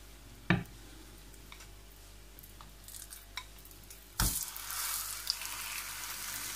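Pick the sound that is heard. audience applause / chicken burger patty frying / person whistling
chicken burger patty frying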